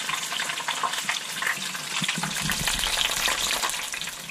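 Shark empanadas made from Atlantic sharpnose fry in a pan with a steady, close, loud sizzle and crackle of hot oil, continuous throughout.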